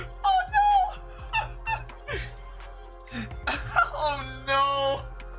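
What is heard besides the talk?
dog whimpering, from the video game Genshin Impact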